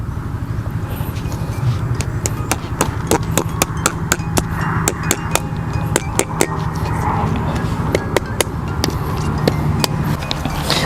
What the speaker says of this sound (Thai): ทำการตอกเข้าไปครับ โดยการตอกนี้นะครับ ก็เราก็จะตอกแค่พอตึงมือนะครับ